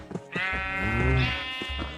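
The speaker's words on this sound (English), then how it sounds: "Let's go and start breeding the sheep." A sheep in the Minecraft video game gives one clear, loud bleat lasting about a second and a half, with soft clicks just before and after.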